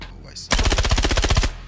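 Rapid SMG burst in the Star Citizen first-person shooter, one continuous loud volley of closely spaced shots lasting about a second, preceded by a short faint blip.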